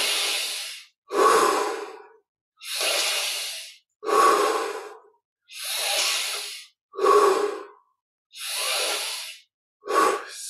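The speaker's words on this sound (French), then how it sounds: "Et 10 respirations encore, on essaie de prendre plus d'air pour faire rentrer plus d'énergie." Slow, deep breaths during a guided meditation, each long inhale or exhale a loud, airy rush close to the ear, separated by brief silences in a steady repeating rhythm, with no talking.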